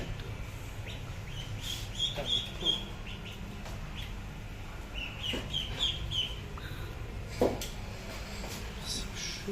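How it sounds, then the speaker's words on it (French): Small ducklings at a restaurant in Hanoi, Vietnam, giving a few short, high cheeping calls in brief bursts over a steady background of low crowd and street murmur. "t'as des petits canards"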